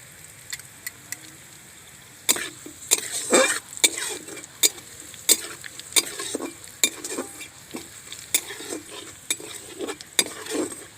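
White sesame seeds and chili flakes are stirred in a frying pan over very low heat, with a spatula scraping and tapping the pan in repeated strokes over a faint sizzle.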